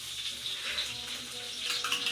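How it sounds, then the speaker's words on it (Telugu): Green chilies fry in hot oil, giving a soft, steady close sizzle with faint spitting crackles over about two seconds, with no voices. "అవి ఆయిల్లో ఏమవుతుందంటే మంచిగా ఫ్రై అవుతాయి ఆయిల్లో"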